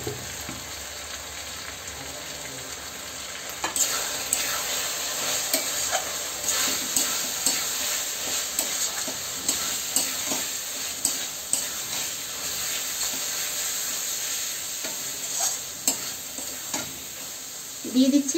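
Whole spices frying in hot oil for a mutton curry, a continuous loud sizzle and hiss with repeated scraping stirs of a spatula through the pan, no talk.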